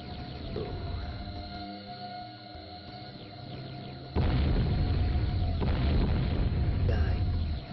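Bombs explode in the Killer Raceway video game, a low rumbling ambience that breaks into a loud, sustained roaring blast partway through, followed by a second burst.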